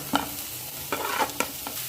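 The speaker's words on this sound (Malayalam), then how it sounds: "ഇനി ഇതിലേക്ക് അരിഞ്ഞു വെച്ച വെണ്ടയ്ക്ക കൂടി ചേർത്ത് കൊടുക്കുക" Chopped okra stirred into frying onions in a pan, soft background sizzle with a few short scraping stirs, quiet and close, no talking.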